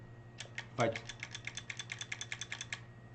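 Repeated clicking of a guitar tap tempo foot pedal, about fifteen evenly spaced clicks close up, slowing slightly, with one louder thump near the start over a low steady hum.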